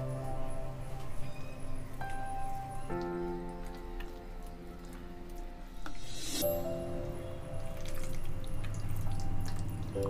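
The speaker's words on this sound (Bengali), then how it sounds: "বন্ধুরা, মশলাটার সাথে মাটন ভালোভাবে মাখিয়ে নিচ্ছি।" Mutton being mixed by hand with spices and mustard oil, soft wet squishing and slapping sounds coming close and irregular, alongside a faint background hum.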